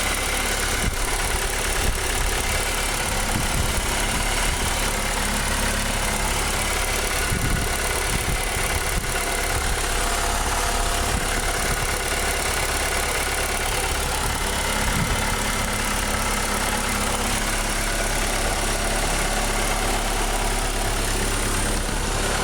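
A freshly rebuilt car engine idles steadily after its first start. The rumble is loud and constant, close by, and runs without a break and without speech.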